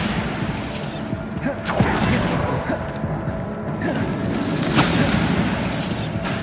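Bombarda spell explosions in the Hogwarts Legacy video game, booming blasts with whooshing swells over constant battle noise, including a sharp crash near the two-second mark and a louder surge toward the end.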